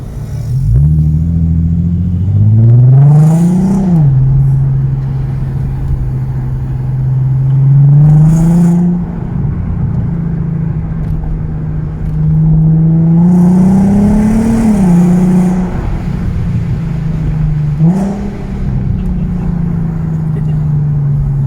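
VW Golf R32 Mk5 with its VR6 engine pulls hard through the gears, loud from inside the car, its drone climbing in pitch several times with brief drops at each gear change.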